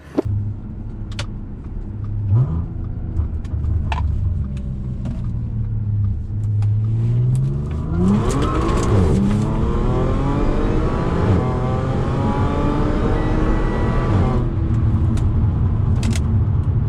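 An Audi S4 fitted with a big intake and an upgraded throttle body pulls away and accelerates on a drive, its engine note rising through the gears with a loud, sustained rumble close by.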